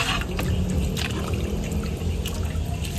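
Broth pouring steadily into a pot of pork nilaga (pork leg soup), a continuous trickling splash with low rumbling underneath, close and moderately loud.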